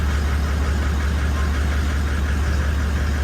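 A 2015 Toyota Landcruiser 76 series engine idles just after a fresh oil service. It gives a steady, loud, low rumble that runs without a break and with no talking over it.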